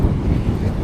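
Strong wind at the seashore buffets the microphone, a steady low roaring rush over a short moment with no voices.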